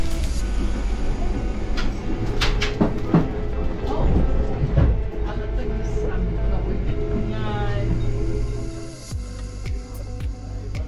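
Coastal Pacific passenger train running from Picton to Christchurch, heard from inside the carriage: a steady low rolling rumble with rattles, squeals and track clicks throughout, easing slightly near the end.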